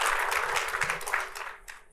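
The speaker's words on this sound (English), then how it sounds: "Let's get a round of applause." A conference audience at a leadership summit panel claps briefly and faintly, scattered applause fading out over about two seconds.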